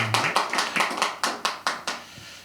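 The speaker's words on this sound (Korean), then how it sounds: "제가 한번 박수로 한번 부탁해 보면 어떨까요?" A small group claps in a loose, sparse rhythm for a guest writer at an event. About a dozen distinct claps in two and a half seconds, close and crisp, with no voices.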